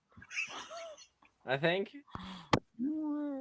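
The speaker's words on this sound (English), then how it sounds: "That was a cat" A cat meows a few times in short, wavering cries, mixed in with people talking over it.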